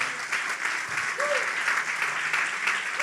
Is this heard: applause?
yes